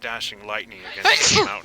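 A single sharp human sneeze bursts out close by, right after a stretch of someone speaking, during a stormy mountain tale.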